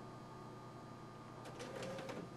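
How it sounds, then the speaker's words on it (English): A printer starts on a test page on plain typing paper, a faint steady mechanical hum with a short burst of whirring and clattering as the paper feeds, quiet and close. "it's beginning to print now."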